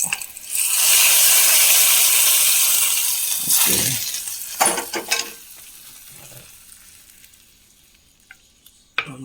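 Fried onion tempering poured into a dried prawn and mango curry, with a loud bright sizzle bursting up and holding for a few seconds, then tapering off among spoon clinks and scraping as it quiets.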